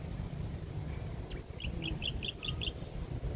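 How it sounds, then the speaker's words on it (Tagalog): A bird gives a short run of about six quick, evenly spaced chirps at a quiet memorial park, faint over a steady low rumble of background noise. "Naririnig pa yung mga huni ng ibon."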